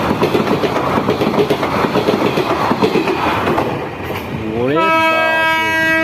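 Lalgola-Sealdah passenger train roaring past at speed while overtaking a Budge Budge local, a dense rushing rumble with rail clatter, then a loud sustained multi-tone horn blast near the end; a man calls out briefly over it.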